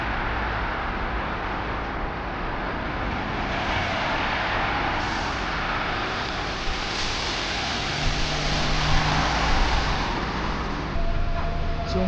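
Road traffic on a snowy Tokyo street: a steady, fairly loud wash of passing cars and heavier vehicles with tire and engine rumble, continuous throughout, with a brief brake-like hiss near the end and no clear talk.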